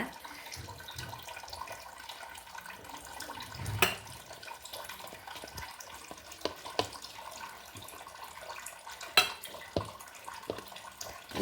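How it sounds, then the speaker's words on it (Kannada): Water poured into gram flour batter for motichoor ladoo, a steady faint trickle with a couple of brief louder splashes, no talking. "ಇದನ್ನು ನೀರು ಹಾಕಿ ಈ ಕಪ್ಪಲ್ಲಿ ಒಂದು ಕಪ್ ನೀರು ತಗೊಂಡಿದೆ"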